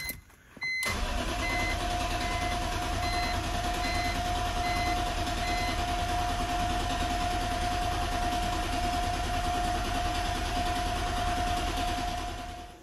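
BMW E46 M3 with a freshly installed engine cranking on the starter with the fuel pump relay pulled, a steady loud mechanical whir with a constant tone that holds unbroken for about twelve seconds before stopping.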